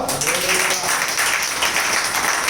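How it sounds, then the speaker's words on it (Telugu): A church congregation claps loudly together, a dense and steady wash of applause that runs the whole time, with voices faintly mixed in. "హల్లెలూయా, గట్టిగా చప్పట్లో."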